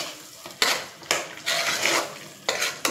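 Chicken curry with coriander powder and chicken garam masala stirred in a pan, a spoon scraping and clattering against the metal in several loud strokes over a low frying sizzle, close up with no talk.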